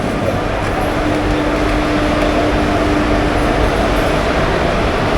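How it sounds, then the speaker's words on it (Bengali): A train pulls into a busy station on the Digha line, a steady, loud rumbling roar with a faint tonal hum running unbroken throughout, with no talk. "ট্রেন এসে পৌঁছালো।"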